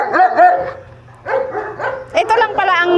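Several pet dogs barking, yipping and whining close up in a home setting, in short bursts that fill most of the clip with a brief lull in the middle.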